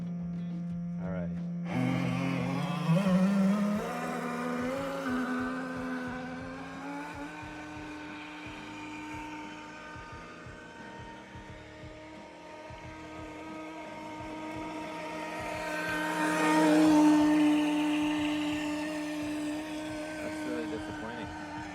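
Homemade motorboat running at full speed on a pond, a loud continuous whining motor drone that rises and swells toward the end, with voices talking over it.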